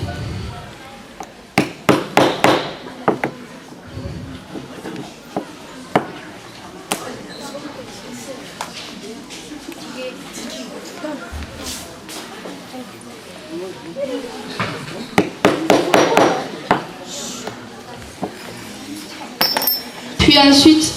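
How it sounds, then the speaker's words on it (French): Striking tool punching rivet holes in a leather belt, heard as sharp irregular taps and clacks in clusters on a workbench, with scattered quieter knocks between bursts and no talking. "prend un outil à frapper pour faire les trous"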